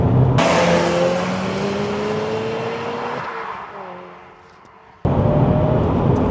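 A Subaru Impreza WRX Spec C turbocharged engine roars loudly, its pitch rising through the gears, easing off briefly as it corners, then surging back hard.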